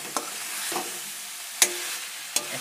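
Mashed potatoes for aloo dum are stirred in a hot pan, with soft sizzling broken by four sharp scraping strokes of the spoon, close and alone.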